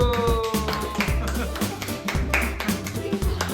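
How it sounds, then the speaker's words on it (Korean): Clapping from a group at a Bible doctrine school camp, rhythmic, fairly loud hand claps mixed with tapping and other noise, with sounds like voices blending in. "박수."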